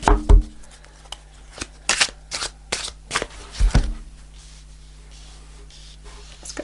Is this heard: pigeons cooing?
no